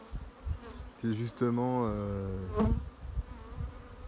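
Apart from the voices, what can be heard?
Buckfast honey bees buzzing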